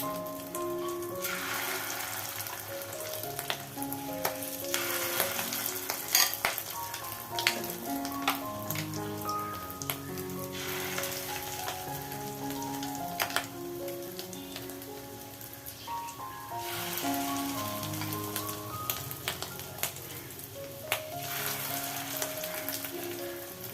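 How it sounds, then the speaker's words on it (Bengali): Spoonfuls of fish roe fry in hot oil in a karahi on a medium flame, giving a continuous close crackling sizzle that swells in bursts as fresh batter drops in, with faint clinks of the spoon and no speech. "আমার কড়ার তেলটা ভালো মতন গরম হয়ে গেছে এবার আমি চামচে করে ডিমগুলো তেলের মধ্যে ছাড়বো"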